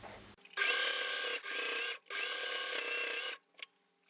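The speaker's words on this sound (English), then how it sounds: "And I'm gonna sew over" A sewing machine stitches over lace in two long steady bursts with a brief pause between, loud and close, then stops with a few small clicks at the end.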